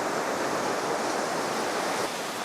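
Ocean waves wash onto the shore as a steady, dense rush of surf with no break, filling the scene evenly at moderate loudness.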